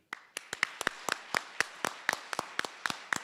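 A few pairs of hands clap at a university awards ceremony, producing crisp, close, slightly uneven claps that keep up a quick patter for about three seconds with no talk.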